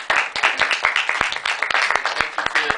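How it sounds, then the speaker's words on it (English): An audience applauding at the close of a student society debate, dense steady clapping from many hands throughout, fairly close and loud. "Give them a round of applause"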